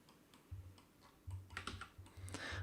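Keys clatter on a computer keyboard as a value is entered in Blender, a short run of quiet, close taps in uneven bursts with no voice.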